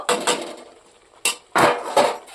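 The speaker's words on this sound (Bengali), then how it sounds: "এর পরে আমি এর মধ্যে পনিরটা ঢেলে দেব" Pieces of fried paneer get tipped into a pan of spices, giving several loud, close clattering knocks of a utensil against the pan in separate bursts with short quiet gaps.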